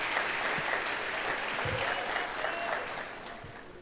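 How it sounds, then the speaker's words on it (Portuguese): Church congregation applauding during a service, a continuous soft wash of clapping heard at a moderate distance, even in level and tapering slightly toward the end. "Pode aplaudir ao Senhor."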